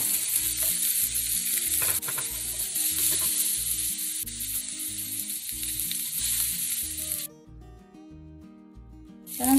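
Ground spice paste with shrimp paste (terasi) sizzles steadily in a pan for a tomato terasi sambal, a loud continuous frying hiss with occasional stirring scrapes, quieting near the end before a final burst.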